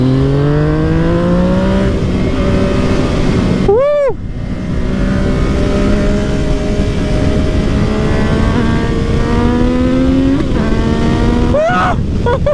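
A Yamaha MT-09 motorcycle accelerates hard, its loud engine note climbing steadily through the gears with brief breaks at each shift, continuous and close with no voices.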